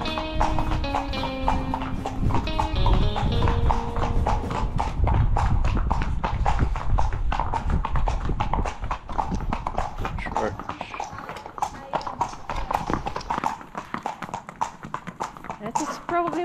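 Horse hooves clip-clopping on a horseback ride near Granada, Spain, a steady rapid rhythm of sharp close taps throughout, with people talking over it.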